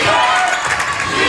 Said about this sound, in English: we hear the opposing crowd defensive chants traveled all the way from Yuba City